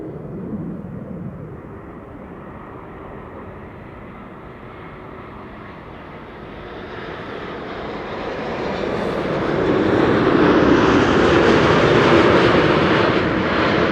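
A Chinese airline's Boeing 777 arriving at Amsterdam Schiphol from Shanghai on a sunny day, its jet engines a steady broadband roar that swells louder as the widebody nears and passes overhead.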